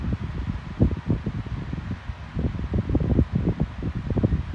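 A grey Bionaire 16-inch oscillating pedestal fan with remote control runs close by, giving a loud steady airy rush with buffeting, fluttering gusts of wind hitting the microphone.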